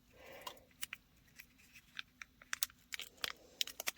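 Toy packaging for a miniature Pringles, Popsicle and Smucker's jam collectible ball being cut open with scissors, giving a quiet run of sharp snips and crinkling plastic crackles that grow denser toward the end.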